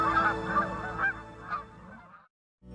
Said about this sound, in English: I'll take the honk of a Canada goose any day.